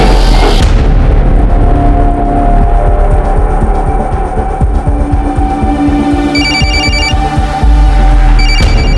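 A mobile phone rings loudly in a house during a police search, its bright electronic tone repeating in short bursts over a heavy, booming background score.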